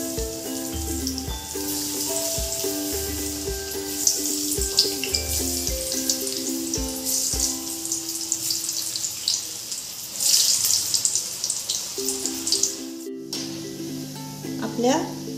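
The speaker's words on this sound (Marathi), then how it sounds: "आता आपण वड्या तळून आपण वड्या तेलात सोडू" Aalu vadi, colocasia leaf rolls, fry in hot oil with a continuous bright sizzle and crackle that swells now and then, with a steady background tone underneath.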